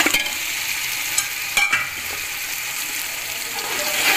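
Beef shank sizzles in hot oil and fried masala in a pot, a steady, loud frying hiss broken by a few scraping knocks of the spoon as the meat is stirred, close up and without talk.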